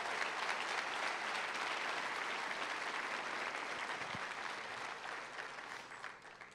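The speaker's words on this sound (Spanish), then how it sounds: "Dele el aplauso a Jesús." A church congregation applauds at a service, with steady, sustained clapping from a large crowd throughout that gradually fades toward the end.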